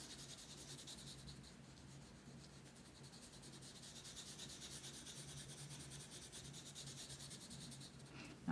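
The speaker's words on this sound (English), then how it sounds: "I'm gonna rub here a little bit harder to intensify the orange" Orange colour is rubbed onto paper for still-life shading, a quiet steady scratchy friction that runs continuously at close range and ends with a small knock, with no voices.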